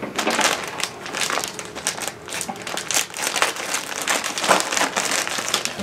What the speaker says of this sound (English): In this bag we will cut.